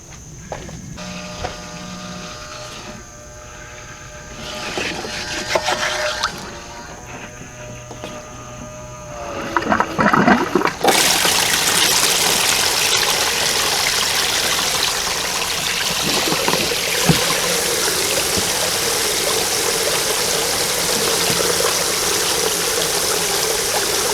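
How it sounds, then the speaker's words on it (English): A battery-powered aerator pump bubbles and churns water inside a repaired cooler converted into a livewell. Quiet fiddling comes first, then a loud, steady rush of bubbling and splashing water that continues to the end. "I think it's going to do a fine job of aerating and mixing the water on it."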